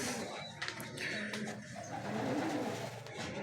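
Pigeons cooing in a European-style loft with caged birds and open fresh-air ventilation, soft low coos repeating through steady background rustle and murmur, fairly close.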